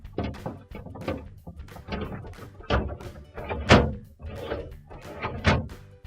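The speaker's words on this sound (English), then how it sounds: "Now we're going to put our crisper drawers back in." A crisper drawer on wheels is slid along its track back into a Maytag refrigerator, giving a series of plastic thunks, scrapes and knocks spread over several seconds; no speech.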